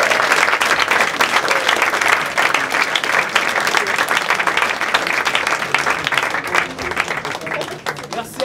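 Sustained crowd applause at a live event, a dense wash of clapping that stays loud and steady throughout, with cheering voices mixed in.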